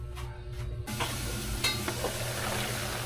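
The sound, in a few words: vegetables boiling in a covered pot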